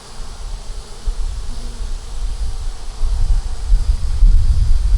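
A dense, low buzzing of many honeybees hums continuously up close from an open hive, swelling slightly louder toward the end, with no talking.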